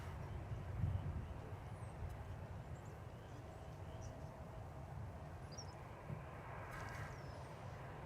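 A distant airliner arriving at DFW Airport from LAX, approaching on the east side past Founders Plaza, gives a faint, steady low engine rumble that holds evenly throughout with no talk over it.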